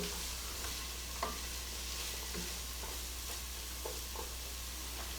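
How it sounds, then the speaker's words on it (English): Ingredients sautéing in a soup pot for chicken rice soup, a soft continuous sizzle with a few light spoon taps and stirring knocks, fairly quiet and close, no voices. "you want to let it saute for about maybe a minute"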